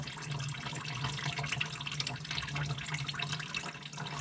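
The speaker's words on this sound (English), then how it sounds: "Let it slowly drain out." Liquid trickling and dripping steadily as it drains slowly, a faint continuous watery patter heard up close.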